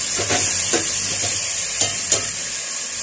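Potatoes go into a frying pan of tomatoes for aloo biryani, bringing a steady close sizzle broken by a few soft scraping stirs of a spoon against the pan.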